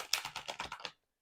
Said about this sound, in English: I'll shuffle them just so you can see in case you're wondering